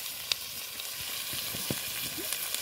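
Chicken frying in hot oil makes a soft, continuous sizzle with a few small pops and spatters, fairly faint and heard briefly on its own.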